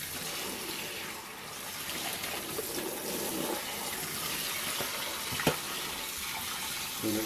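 Tap water runs at full power into a kitchen sink, rinsing soaked eggfood for goldfinch, siskin and mule canary feed; a steady close broadband rush continues throughout, with small clatters near the end.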